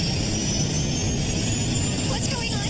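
Jet airliner engine noise aboard American Airlines Flight 191 as it loses power in one engine and banks, a steady, dense roar filling the cabin throughout, with faint whining tones near the end.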